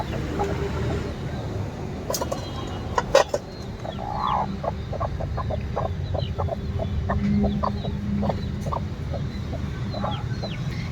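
Hens cluck in short, repeated calls in a poultry coop across the whole stretch, close by over a steady low hum, with a few brief clatters early on.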